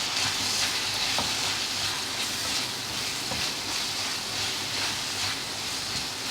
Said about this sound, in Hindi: देखो टमाटर हमारे नरम हो गए। अब हम इसको भून देंगे।